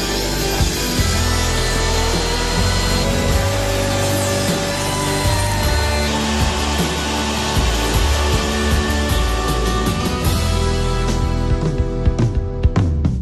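Panels for a yacht's modular construction being sawn at a shipyard workshop in Harlingen, Netherlands, a loud continuous grinding, rasping cut with machine hum and scattered knocks toward the end, no voices.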